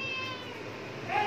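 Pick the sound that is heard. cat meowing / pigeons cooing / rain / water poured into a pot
cat meowing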